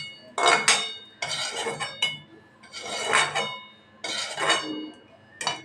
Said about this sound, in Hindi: इसको अब हम अच्छे से कूटेंगे